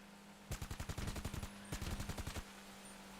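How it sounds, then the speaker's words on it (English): Two rapid bursts of automatic gunfire in a video game, each a string of sharp repeated shots about a second long separated by a short pause, loud against a quiet hum. "Why are you shooting?"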